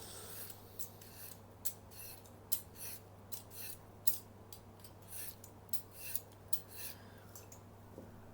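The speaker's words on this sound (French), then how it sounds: "Je viens éplucher mes carottes." Carrots being peeled with a peeler, a run of quiet rhythmic scraping strokes about twice a second, close and alone.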